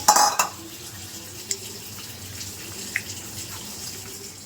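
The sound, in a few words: washing lentils and rice together in water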